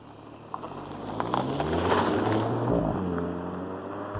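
A 2025 VW Golf GTI Mk8.5 cruising normally on a cold winter morning, with a low steady engine drone and road rumble heard from inside the cabin and building gently, with no talk.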